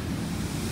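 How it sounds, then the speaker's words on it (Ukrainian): Large ocean waves at Playa Bluff beach in Bocas del Toro, Panama, make a steady, loud roar of surf on a windless day, a dense continuous rush with no break and no voices. "вітру нема, але хвиля дуже велика."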